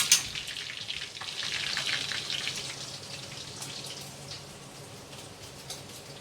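Duck pieces sizzle and crackle in hot oil as they fry golden for a Vietnamese fish-sauce fried duck dish, a soft continuous hiss with scattered pops, loudest early then easing slightly.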